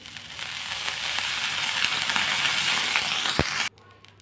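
Water sprinkled onto a hot tawa greased with a few drops of oil sets off a loud, close, steady sizzle and hiss that swells briefly, then cuts off abruptly near the end.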